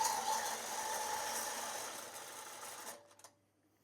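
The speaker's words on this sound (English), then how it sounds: "what I'm doing now is obviously stitching just the batting to the quilt's backing for security" A long arm quilting machine stitching batting to the quilt backing, a steady whirring mechanical hum with rhythmic needle clatter that runs close and loud, then stops abruptly and leaves near silence.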